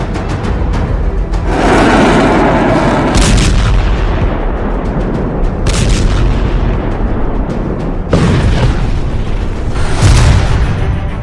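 Iranian missile strikes exploding in Israel, heard as a continuous roar of heavy booms and rumbling blasts with repeated loud bursts, dense and chaotic throughout, no voices.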